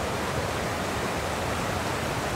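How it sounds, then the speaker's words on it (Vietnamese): A flowing stream on a rural land plot, a steady dense broadband rush of water, loud and continuous with no voices over it. "Đó, cái phần suối nè"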